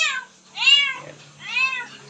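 A farm cat meows three times up close, each call a clear, drawn-out cry with short pauses between.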